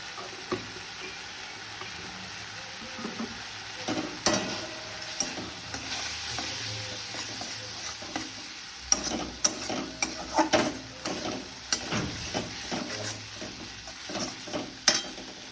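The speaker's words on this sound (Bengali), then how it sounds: "তো মশলাটা একটু কষতে থাকুক" Turmeric-laced spice paste sizzles in a pan while a spatula stirs it, with steady frying hiss and sharp scraping clicks that grow busier partway through, no voices.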